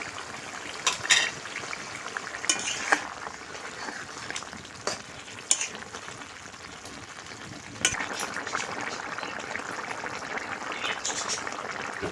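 Mustard paste thinned with water is spread into a simmering ash gourd curry, producing a steady bubbling sizzle with wet stirring and pouring sounds, close and continuous, with a few sharper clinks along the way.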